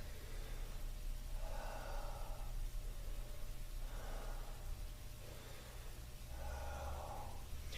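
Slow, deep breaths taken during an exercise hold, three soft breathy swells spaced a couple of seconds apart, faint and close over a low steady hum, with no talking.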